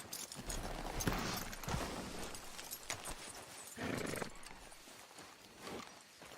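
Horse hooves in the video game Red Dead Redemption 2 pound in a quick galloping beat, up close and steady, with a brief swell of louder rumbling partway through.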